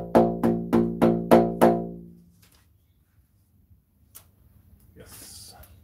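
A 3-meter-long pipe instrument sounds five rhythmic pulsing tones in a row, each swelling and decaying, then fades to quiet with faint handling noises and brief breathy sounds afterward.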